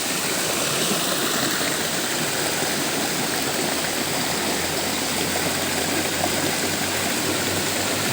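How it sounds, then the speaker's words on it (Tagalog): A tall waterfall roars continuously, a loud, unbroken wash of rushing water heard close by with no voices over it. "At ako'y nakatingin dito sa talon."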